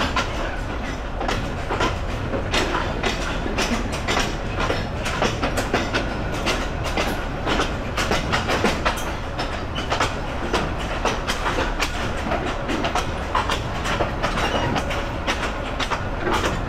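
A train rattles through a rural railway station with a steady, loud roar and clickety-clack of wheels on track, continuous throughout and heard close, with no talk.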